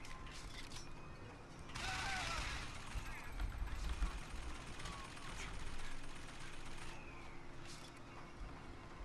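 Gunfire in Bioshock Infinite crackles in bursts amid mechanical clanking and game noise, moderately loud, with scattered bursts across the stretch.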